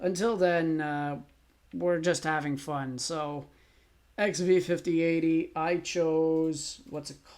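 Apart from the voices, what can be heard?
None of the usual background noises is heard.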